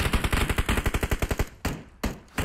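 Automatic gunfire in the mobile battle royale game PUBG Mobile: a fast, even burst of loud shots that runs for about a second and a half, then stops and gives way to two or three separate single shots.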